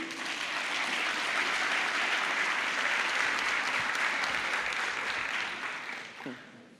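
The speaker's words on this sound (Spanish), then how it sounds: "Un fuerte aplauso para recibirlo" Loud, sustained applause from an audience welcomes a forensic expert professor to a lecture hall, dense clapping rolling evenly before fading near the end.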